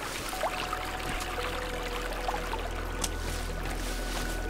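Water flowing in a stream in the Sons of the Forest survival game, a steady close pouring and trickling wash that runs unbroken beneath faint ambient tones, with no talk over it.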